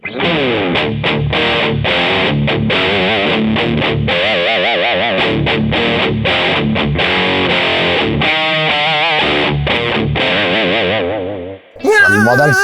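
Chunky, heavily overdriven Fender American Ultra II electric guitar with humbuckers riffing loud and continuously, thick distorted chords with short choppy breaks, ending abruptly near the close.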